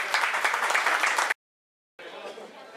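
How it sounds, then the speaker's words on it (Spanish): A room full of people claps at a horse auction at Haras La Bien Plantada in Rio Seco; the steady applause cuts to brief silence, then resumes more softly. "Un fuerte el aplauso"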